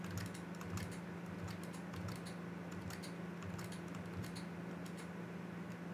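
Quiet, rapid clicks of a computer keyboard sound while keyboard shortcuts are pressed during game-making work in Clickteam Fusion 2.5. The keys tap irregularly over a low steady hum, with no talk.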